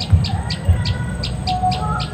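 Young perenjak lumut birds call nearby in a quick, evenly spaced run of about eight short, bright chirps over a low background rumble.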